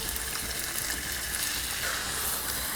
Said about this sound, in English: make sure you evenly flip your beef as you're stir frying